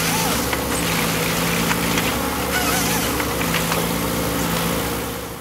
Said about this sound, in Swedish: Det är en Mercedes-Benz 4-cylindrig på 130 kW.